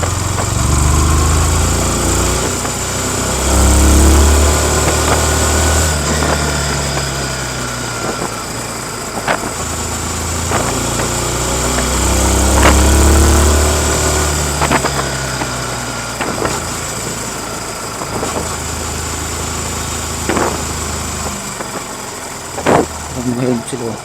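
A stock Yamaha MT-15 motorcycle engine drones steadily while riding in Masbate City, its note swelling and easing with throttle changes over low rumbling road noise and a few sharp clicks.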